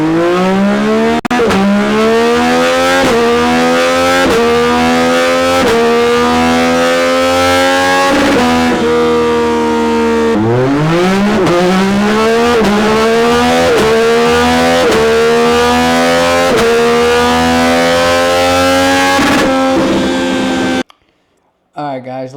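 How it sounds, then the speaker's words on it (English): A Yamaha R9 motorcycle engine cold starting and warming up, a loud, steady idle with wavering pitch that dips and rises a few times before cutting off near the end. "Let's get a little cold start going."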